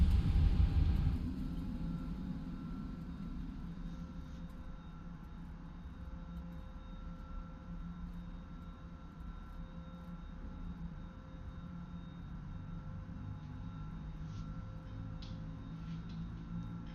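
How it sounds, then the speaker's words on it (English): Airbus A320 engine number 2 spooling up in a flight simulator: a steady low rumble with a faint high whine, a brief louder burst at the start, then an even drone with small clicks. "We have a good engine start"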